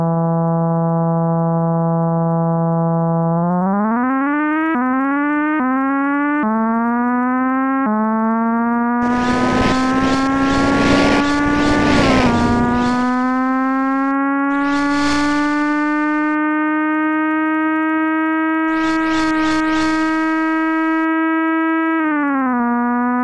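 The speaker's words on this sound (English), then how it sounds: "Start your engines." Synthesized race car engines from the Sega Genesis game Nigel Mansell's IndyCar drone loudly as steady buzzy tones that climb in pitch through gear shifts, with bursts of harsh noise layered on top, no voices.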